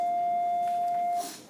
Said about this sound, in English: Wait until the bell.